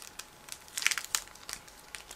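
A plastic bag of model kit decals and photo-etch parts is opened, giving crisp, close crinkling and rustling in irregular short bursts, quiet overall, with no voices.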